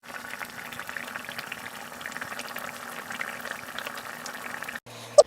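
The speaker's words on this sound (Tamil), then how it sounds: "இப்போ இதை மூடி வச்சு ஒரு 2-3 கொதி வரட்டுங்க" Vegetable kulambu boils in a covered pot with a steady, dense bubbling that runs on unbroken, then drops out before a single sharp clink near the end.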